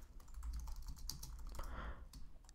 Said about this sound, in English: I just forgot my train of thought because I was typing